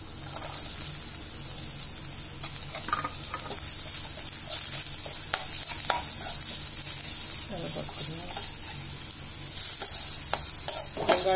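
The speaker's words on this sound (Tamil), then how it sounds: "வெங்காயத்தை நல்லா வதங்க சொல்லுவோம்" Sliced onion sautéing and being stirred in an oiled pan for chilli sticks, a steady close sizzle with occasional scraping stir strokes throughout.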